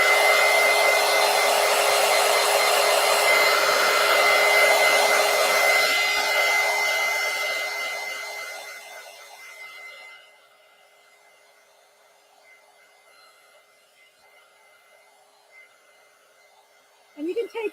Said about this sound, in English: I'm hit this with the heat gun again in just a second.